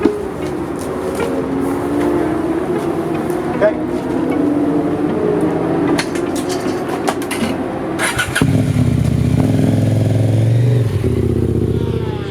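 KTM 890 Duke R race motorcycles out in qualifying, a loud, continuous engine roar with shifting pitch and rev changes, swelling louder near the end, voices faintly mixed in.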